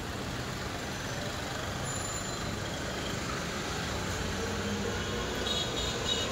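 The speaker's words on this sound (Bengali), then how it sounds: "ওরে গাড়ির আওয়াজ বাইর হওয়া যায় না" Steady road traffic with trucks passing on a damp day after light rain, a continuous broadband rumble and hiss with a brief air-brake hiss partway through and no voices.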